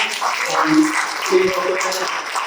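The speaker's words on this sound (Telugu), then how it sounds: "గట్టిగా చప్పట్లు కొడదామా?" A church congregation applauds loudly during a sermon, a dense wash of clapping with voices mixed in, close and continuous throughout.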